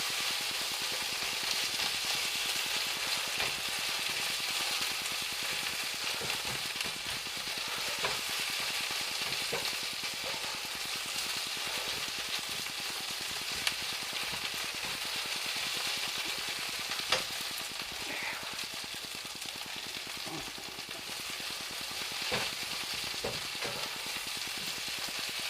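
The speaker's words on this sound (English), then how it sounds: "We're just going to saute this for a minute or so." Chicken cacciatore ingredients sautéing in a pan, a soft, continuous sizzle and crackle with occasional faint stirring clicks, fairly quiet and steady throughout with no talking.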